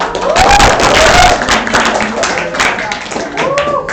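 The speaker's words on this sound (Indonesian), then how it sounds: "tepuk tangan buat kalian semua" Audience applause in a meeting hall, a sustained wash of many hands clapping at fairly close range, mixed with voices talking over it throughout.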